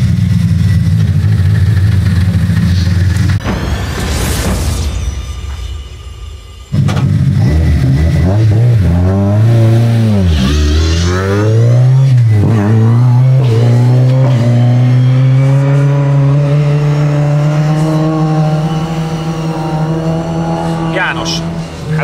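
A Lada race car on a timed lap, its engine revving hard through the gears with rising and falling pitch, a brief lift-off, and tire squeal, loud and close throughout.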